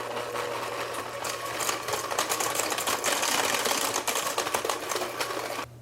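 An electric mixer whirs steadily and close for several seconds, blending pumpkin into doughnut batter, its motor hum constant before cutting off abruptly near the end.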